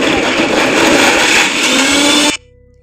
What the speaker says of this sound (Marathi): नंतर ते मिक्सरमध्ये त्याची पावडर करून घ्या